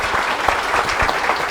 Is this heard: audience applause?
yes